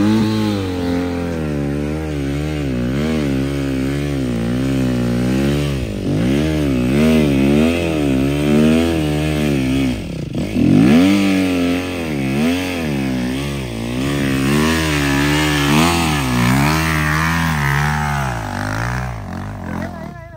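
A motorcycle engine revs loud and close on a muddy trail ride in stormy weather, its pitch rising and falling through repeated throttle bursts with a brief surge near the middle.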